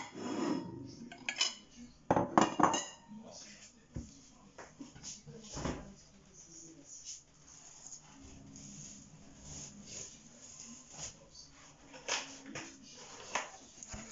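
Plates and dishes set down on a counter during meal preparation, with several sharp clinks and clatters of crockery and cutlery near the start, then quieter scattered knocks and handling sounds.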